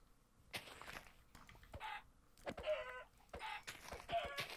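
A chicken clucks in Minecraft, several short clucks in bursts with gaps between them, fairly close and clear.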